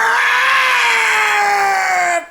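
A person vocally imitates the Howie scream stock sound effect, a single loud, sustained high-pitched shriek that slowly falls in pitch and stops abruptly after about two seconds.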